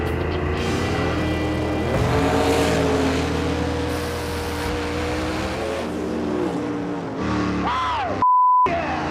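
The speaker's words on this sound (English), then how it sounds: "That was one of the fastest passes I ever made in that car." A Fireball Camaro drag car makes a fast pass down the drag strip. Its engine roars loud and close, climbing in pitch, then a short electronic beep sounds near the end.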